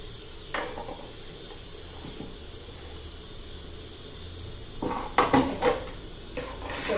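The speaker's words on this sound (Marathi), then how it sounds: "मिक्स करून घेऊया व्यवस्थित." A spoon works leftover rice batter together with chopped coriander, green chili, tomato and onion in a bowl, giving soft scraping followed by a few sharp clinks against the bowl near the end. Nobody speaks.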